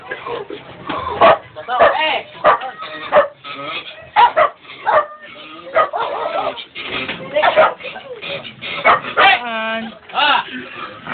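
A dog barks and yips in short bursts, mixed in with near, lively family chatter in Filipino, with the barks partly buried under the overlapping voices.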